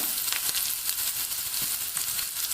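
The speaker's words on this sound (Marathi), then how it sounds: "हे सर्व साहित्य असं ह्या कडकडी तुपामध्ये मी तळून घेते" Mustard seeds, cumin, green and red chillies and curry leaves fry in hot ghee for a pumpkin raita tempering, giving a steady close-up sizzle with scattered sharp crackles and pops throughout.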